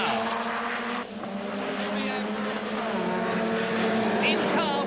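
Touring cars from a 1989 BTCC race roar down the straight at around 160 mph, engines loud and whining as they pass, with a commentator talking over the noise throughout.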